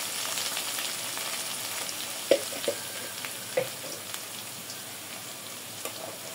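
Onions frying in a pan with turmeric and other spices give a soft, steady sizzle, close but quiet, broken by a few sharp clicks of stirring.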